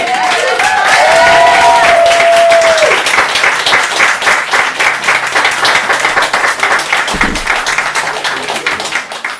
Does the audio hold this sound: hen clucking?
no